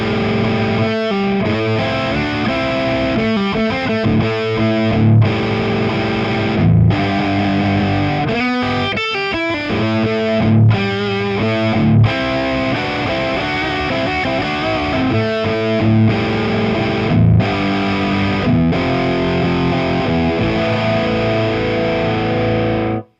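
Electric guitar played through a mini amp head with the gain at about 60% and the presence rolled off, a loud distorted riff of chugging chords and short stops that runs continuously.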